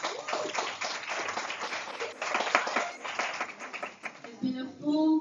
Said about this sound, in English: round of applause for Jason from Rhodes